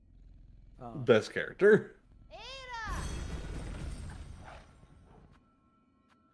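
A creature in Hollow Knight: Silksong gives meow-like calls and a rising chirp, then a soft, low purring rumble that fades out, with a voice speaking briefly over the game sounds.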